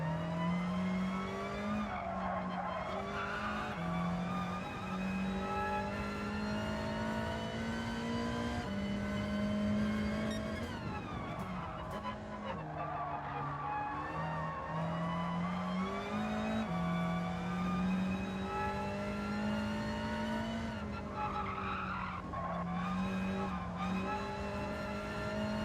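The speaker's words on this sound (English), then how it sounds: "These tyres starting to slide a little bit" Race car tyres slide and squeal in Gran Turismo 7 during a BTCC championship round, with a loud engine continuously droning and shifting pitch as it revs up and down throughout.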